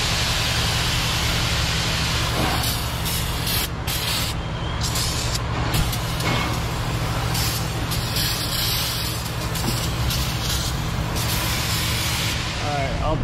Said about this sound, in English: let's give it a good rinse with some solvent